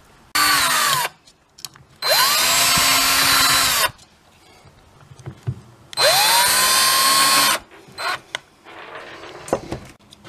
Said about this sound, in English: I've taken this long drill bit and gone all the way down through across the board